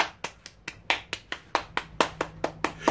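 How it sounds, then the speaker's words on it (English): Group clapping along in time during a fitness routine, about fourteen sharp, evenly spaced claps in a steady beat, fairly close and clear with nothing else over them. "Everybody clap their hands."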